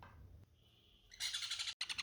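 Two sun conure chicks give quick bursts of bright, shrill chirps after a quiet start, close but soft, with a brief pause near the end.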